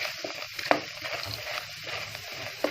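Halila siyah (black myrobalan) frying in hot ghee gives a steady, busy sizzle with a couple of brief pops, heard close and alone.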